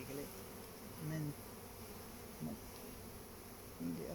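A honey bee swarm buzzes during a hive inspection in Bristol, a faint, steady hum broken by a few louder passes of single bees close by.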